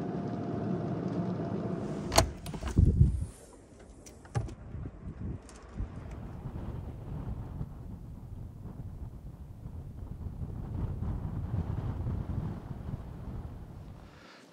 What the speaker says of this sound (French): Le vent, il est revenu.